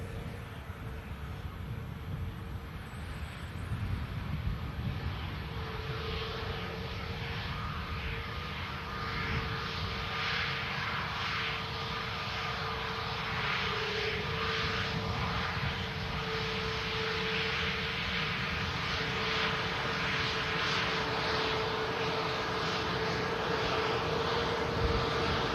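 An Airbus A320neo-family airliner touches down at Manchester Airport, a steady broadband engine and rolling roar holding at a moderate distance and building slightly over the landing run, with no voices.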